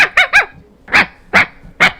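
A dog barks sharply and loudly at close range, a quick pair of barks followed by three more evenly spaced ones, with no other sound between them.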